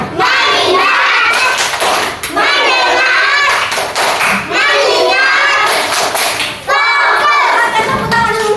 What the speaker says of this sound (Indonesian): silakan berdiri semua, kita tepuk fokus